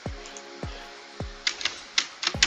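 Keys clack on a computer keyboard during a Supermarket Simulator gaming session, a few sharp taps spaced apart and then a quicker, brighter burst of clicks close to the mic.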